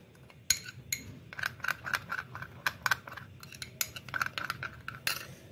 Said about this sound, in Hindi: इसको हम अच्छे से मिक्स कर लेंगे एक स्पून की हेल्प से